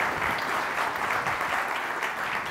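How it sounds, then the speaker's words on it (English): An audience at a business conference breaks into steady, sustained applause, a dense wash of clapping that stays even throughout. "Give her a round of applause."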